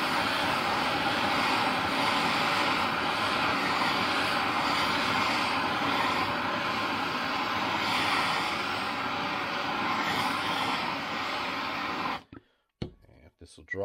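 A torch heating the inner race of a bearing during a 2007 Honda CRF150R build, a steady loud roaring hiss of flame that holds for about twelve seconds, then stops abruptly, leaving a few faint knocks.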